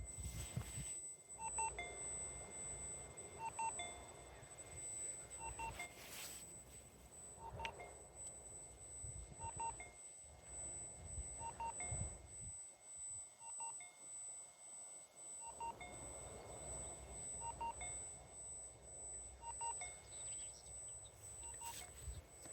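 A Minelab F3 metal detector emits a series of repeated electronic beeps and tones during its noise cancel routine, fairly quiet and evenly spaced over a soft background hiss, with no talking.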